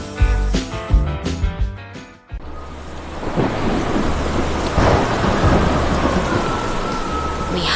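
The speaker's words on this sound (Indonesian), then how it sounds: "Lihatlah badai besar itu." A big thunderstorm: after some music fades, heavy rain hisses loud and steady while thunder rumbles deep beneath it, with no voices.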